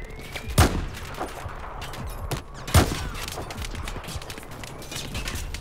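Battlefield 4 campaign firefight at a dam, with dense bursts of rapid gunfire and two heavy, booming shots standing out over constant rattling shooting; no voices.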